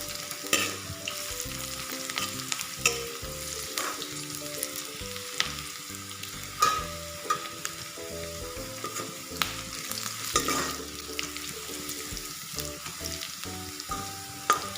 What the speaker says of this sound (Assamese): আদা নহৰু কেঁচা গন্ধ নোযোৱালৈকে ভাজি থাকিব লাগিব।